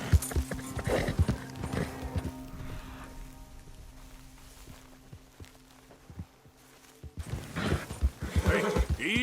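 A horse is ridden in Red Dead Redemption 2, hooves clopping in uneven bursts with a soft whinny, fading quiet midway before picking up again, with light rain-like ambience and brief spoken urging.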